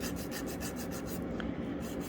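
Quick, soft rasping strokes of a nail file rubbing back and forth on a fingernail in a steady rhythm, close up and quiet.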